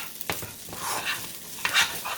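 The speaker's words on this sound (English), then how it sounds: "we're stirring it around just to make the fried rice part of it" Vegan fried rice stirred in a hot pan, a spatula scraping and pushing the rice in a few separate strokes over a soft sizzle.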